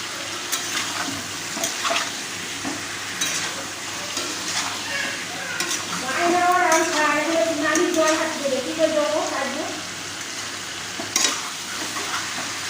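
Chicken sizzles and fries in mustard oil in a home kitchen, a steady crackling bed with scraping stirring strokes growing busier in the middle, while a voice speaks faintly in the background.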